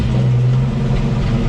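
A 1953 Chevy 4100 truck engine runs steadily at a low, rough idle, loud and close, with no talk while the truck is dropped into reverse gear.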